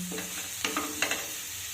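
Fried bathua greens being mixed with fried eggplant in a pan: a soft background sizzle with two or three quick scraping strokes of a spatula, close and fairly quiet.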